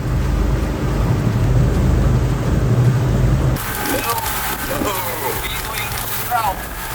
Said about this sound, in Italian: abbiamo incontrato una tempesta enorme tornando da Sangalaki verso Berau